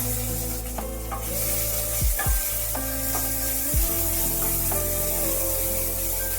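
Steady, loud sizzling of crushed spices frying in hot oil, with occasional stirring scrapes and a low hum underneath.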